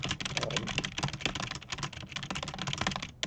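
Rapid, continuous keystrokes clatter on a computer keyboard, close-up and busy throughout with no pauses and no speech.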